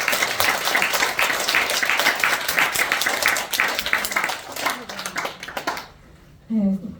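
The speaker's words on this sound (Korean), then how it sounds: "큰 박수 부탁드립니다" A church congregation at a special retreat claps loudly and steadily, and the applause fades out near the end before a voice briefly speaks.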